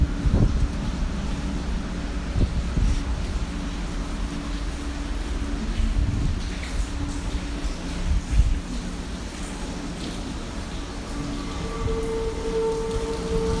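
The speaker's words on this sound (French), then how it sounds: "Le bruit du vent, ouais, le bruit du vent." Gusty wind buffets the microphone in a railway station car park on a rainy day, a continuous low rumble with hiss, and faint tonal hums from the station drift in beneath it.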